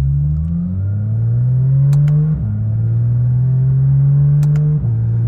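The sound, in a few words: Porsche 911 GT3 RS engine accelerating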